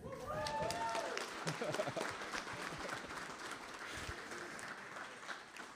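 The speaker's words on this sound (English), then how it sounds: "Can we give a round of applause" Applause from an audience at a homeless coalition meeting fills the clip, steady dense clapping throughout, with some voices near the start rising over it.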